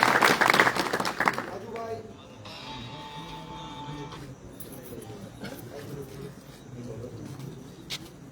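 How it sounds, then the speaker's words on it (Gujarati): Audience at an Aam Aadmi Party public rally applauding: a burst of dense clapping at the start fades out within two seconds, followed by murmuring, a steady electronic tone and scattered voices. "તેને તાળીઓના ગગડાટ"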